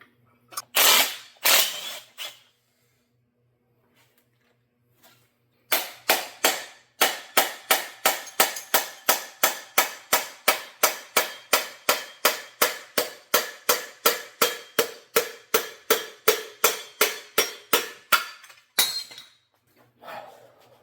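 A small block Chevy crankshaft turned over by hand during a teardown clacks in a long, steady series of sharp metallic ticks, rhythmic and close, after a few louder scrapes and a short pause.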